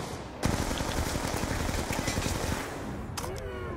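A PDW submachine gun fires in Black Ops 2 Zombies on the Die Rise map: one loud, sustained rapid-fire burst of close shots lasting about three seconds, with no talking.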